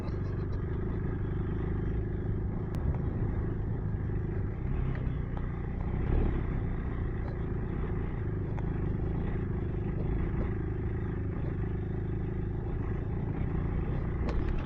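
A motorcycle picks its way over rough, difficult off-road terrain, its engine rumbling steadily with clattering knocks and jolts, close and continuous throughout.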